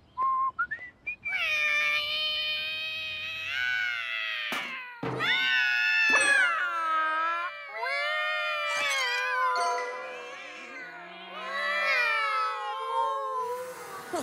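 Cartoon cats meowing and yowling outdoors at night, a continuous chorus of several high, wavering, whistle-like cries that rise and fall, loud and close, with no talking.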